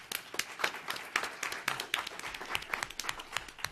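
A small audience at a trade-policy event claps in scattered, uneven bursts, individual hand claps standing out clearly at close range.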